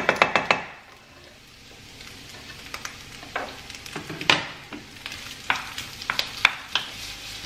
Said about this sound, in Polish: Kiełbaska mi się tu podsmaża, więc teraz wrzucę już tą moją pokrojoną cebulkę.